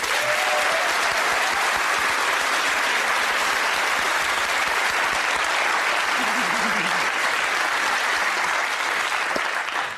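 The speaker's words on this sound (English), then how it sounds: "She gets a round of applause for that as well." A theatre audience at a Mrs. Brown's Boys cast introduction breaks into loud, sustained applause, a continuous dense roar of clapping that holds evenly for the whole stretch with faint voices beneath.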